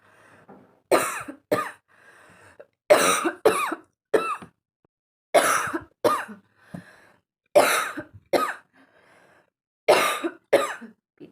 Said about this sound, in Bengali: জোর জবরদস্তি করে কাশিটা করতে হয়।